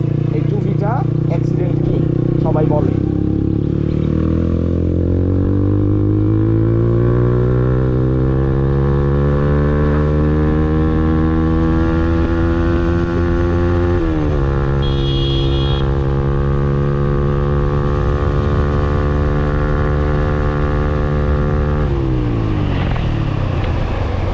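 A five-year-old TVS Apache RTR 2V motorcycle at high speed: a steady, loud engine drone whose pitch climbs gradually, dips briefly, then holds, with constant wind rush throughout.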